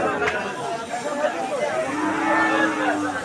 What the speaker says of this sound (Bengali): বিভিন্ন সাইজের গরু এখানে দেখা যাচ্ছে